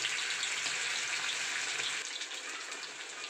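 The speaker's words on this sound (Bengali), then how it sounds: "এটাকে আমি লো টু মিডিয়াম ফ্লেমে ফ্রাই করে নেব" Chicken leg pieces fry in hot oil in a wok over a low to medium flame, giving a steady, dense sizzle close by that eases slightly in the second half.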